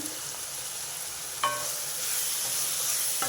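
Curry leaves and onions fry in a pan for a bitter gourd tamarind curry, giving a steady close sizzle with one sharp utensil clink partway through and a slightly louder hiss afterward.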